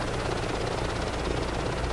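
A helicopter flies in Microsoft Flight Simulator 2024, producing a dense, continuous rotor drone with a rapid, even chop throughout, steady and fairly close, with no voices.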